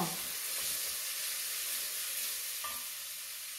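Garlic sizzles in a frying pan with onions for chicken basquaise, a steady close hiss of hot oil with faint stirring scrapes and no voices.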